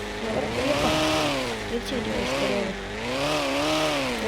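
A Honda car's engine drones and rises and falls steadily as it drives off-road along a muddy track. The motor sounds fairly close and continuous, with voices faintly present underneath.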